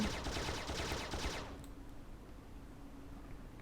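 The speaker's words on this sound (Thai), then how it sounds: "เรากดค้างไว้ก็คือจะเป็นการยิงปืนกล" Machine gun fire from a fighter craft in the online flight combat game ACE Online, a dense rapid burst for about a second and a half that cuts off abruptly, leaving a faint low hum.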